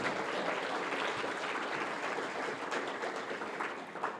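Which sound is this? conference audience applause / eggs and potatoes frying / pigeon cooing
conference audience applause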